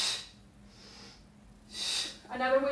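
Two sharp breathy exhalations come during an exercise routine, close and forceful, separated by near silence, the second running into a voice.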